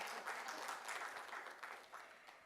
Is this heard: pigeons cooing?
no